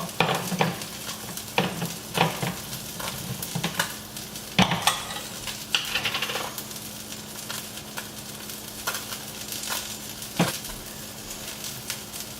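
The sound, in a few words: tomatillo and roasted tomato salsa sizzling and stirred in pan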